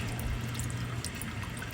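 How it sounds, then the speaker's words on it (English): Soft, continuous trickling water with faint drips in a calm sleep meditation soundscape, low and steady throughout. "The water sound is getting louder and louder and more vivid each step you take."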